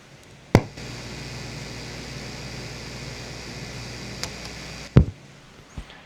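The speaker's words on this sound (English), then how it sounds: "Just a little bit of a pop and a low hum." An amplifier plugged into grid power gives a sharp pop as it switches on, then a low steady hum with faint hiss, and a second pop a few seconds later.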